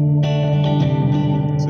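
Dirtbox Ghost Echo pedal blending reverb with delay on a sustained guitar tone, a loud washy chord with repeating echoes trailing and layering over each other.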